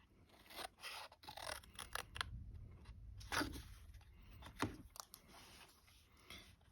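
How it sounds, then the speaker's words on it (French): Scissors snip through paper to cut out a rectangle, a series of quiet, crisp irregular clicks and slicing strokes close by. "Ici, on va couper directement le premier rectangle."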